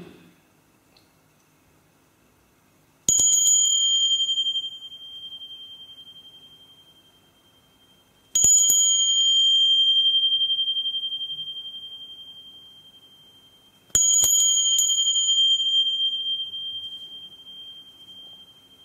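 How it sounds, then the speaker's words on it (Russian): A small Tibetan bell struck three times at even intervals, each strike a bright, clear ring that sustains and slowly fades, heard alone in a quiet room. "Тибетский колокольчик малый."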